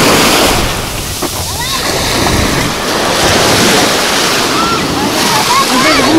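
Rough, roaring surf of the Sea of Azov on the Bugaz Spit near Blagoveshchenskaya fills the air continuously, with wind buffeting the microphone; waves wash in close and loud without letting up.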